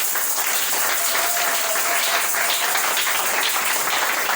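A church congregation bursts into sustained applause, a dense, steady wash of many hands clapping at once that stays loud and even throughout, with no talk rising above it.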